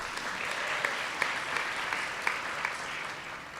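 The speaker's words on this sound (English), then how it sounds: "So another round of applause for Leah." An audience at a hospital staff leadership day and awards event applauds a colleague, with dense, sustained clapping from a large room that runs evenly throughout.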